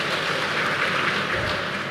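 A church congregation applauds during a Sunday sermon, a steady broadband patter of many hands clapping at once, close and sustained with no pauses and no voices over it.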